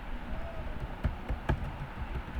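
Keys tapped on a computer keyboard while typing text, a soft, uneven run of light clicks with a few sharper strokes, close and quiet over a faint steady room hiss.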